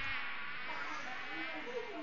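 Insects buzzing as mosquitoes would, a steady high whine with layered wingbeat tones holding evenly throughout, close and continuous with no talk.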